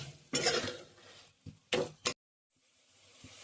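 Leftover marinade paste being stirred in a kadai for Afghani chicken: a few short bursts of scraping and clattering of a spoon against the metal pan, separated by quiet gaps, with a faint sizzle underneath.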